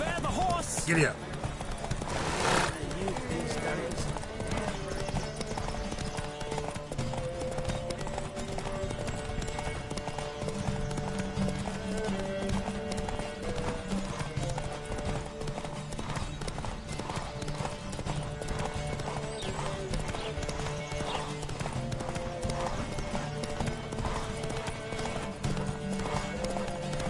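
Horses gallop in a race in the video game Witcher 3, a continuous drumming clip-clop of hooves with an early whinny, loud and steady throughout over game music and effects.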